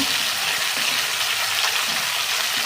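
Prawns fry in a pan with a loud, continuous hiss of hot oil, broad and steady throughout with no voices.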